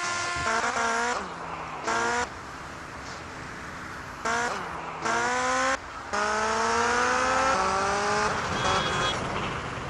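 A car driving in the video game GTA Liberty City Stories, a close engine revving up and down through repeated gear shifts, rising pitch sweeps broken by short drops, loud and continuous.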